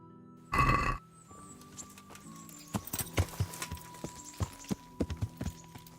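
Horse in the medieval video game Kingdom Come: Deliverance, a loud burst like a snort or whinny near the start, followed by a steady run of light clip-clop hoof steps over a low ambient hum.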